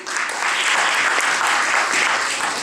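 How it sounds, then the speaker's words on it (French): An audience at a school spelling contest claps steadily for a few seconds, a moderately loud, even patter of many hands with no voices. "C'est bon, on l'applaudit."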